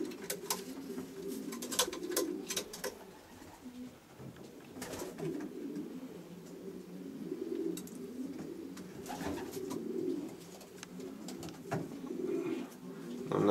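Racing pigeons in a loft give soft, low, repeated coos that overlap in a steady murmur, with occasional sharper clicks and wing or handling sounds nearby.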